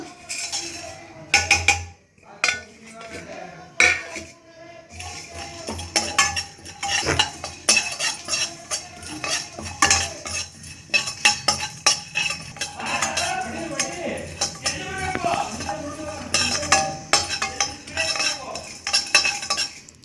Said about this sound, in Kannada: ಫಸ್ಟು ಡ್ರೈ ರೋಸ್ಟ್ ಮಾಡ್ಕೊಳ್ಳೋಣ.